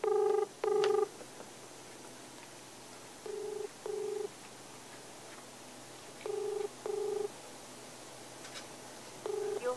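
Ringback tone from an unanswered phone call, paired double rings repeating at steady intervals over a constant background hiss, fairly loud and alone.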